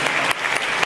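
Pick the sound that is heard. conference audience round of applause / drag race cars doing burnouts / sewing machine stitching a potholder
conference audience round of applause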